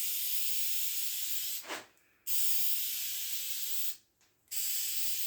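Bed liner coating sprayed onto a custom gate gives a loud, steady close-up hiss, broken by two short pauses before the spraying resumes.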